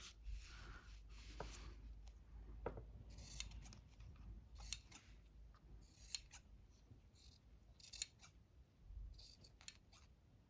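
Scissors snipping thread during a scroll-working session, a series of soft, crisp cuts spaced a second or two apart in a quiet room, with no talk.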